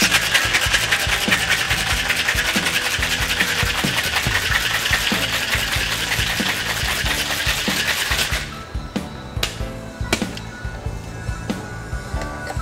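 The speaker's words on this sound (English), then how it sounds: "add a healthy portion of ice, create a vacuum seal, and both hands in the shaker" Ice rattling hard inside a sealed cocktail shaker held in both hands, a fast, loud, continuous rhythmic churning that stops abruptly after about eight seconds, followed by a few light taps and knocks.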